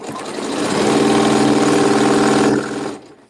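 A sewing machine with an AccuFeed walking foot runs steadily, stitching fabric in a fast continuous whir for about two and a half seconds before slowing and stopping, heard close and loud.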